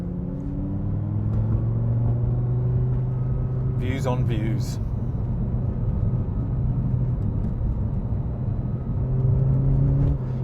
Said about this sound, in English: Does make an amazing noise, this car.